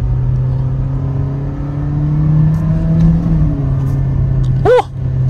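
Engine of a 2025 Kia Sonet SX revving steadily after a manual downshift, a loud sustained drone from inside the cabin that swells briefly near the end.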